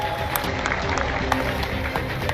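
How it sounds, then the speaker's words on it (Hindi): A crowd applauds at a political rally, a continuous wash of clapping heard at moderate distance, steady and fairly faint throughout with no voices standing out. "जरा उसके लिए जोरदार तालियां बजा दो भैया"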